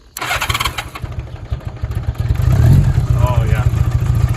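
A cheap $500 off-road motorcycle kicking to life, a low engine thrum settling into a fast throbbing idle that swells louder toward the end, close by, with voices talking over it.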